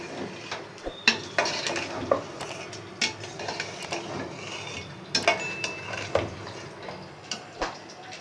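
A spoon stirs badami beef korma in a pot with repeated scraping and metallic clinks against the sides, in an irregular rhythm, close and fairly loud.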